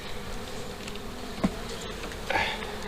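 Honey bees buzzing around an open hive during an inspection, a continuous close droning hum with a few louder passes as individual bees fly near.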